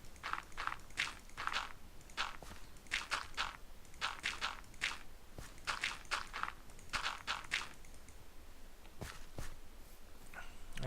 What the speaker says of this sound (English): Last thing I need is to be listening to somebody else's footsteps around me.